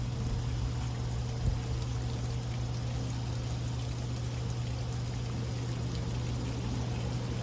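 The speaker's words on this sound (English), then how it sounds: "So we're gonna see if it shoots water out and everything, if the water pump works." A Mercury 125hp outboard motor on a 1999 Bayliner Capri runs steadily with a low, constant engine hum under a continuous rushing, pouring stream of water from its pump outlet, close by and unbroken.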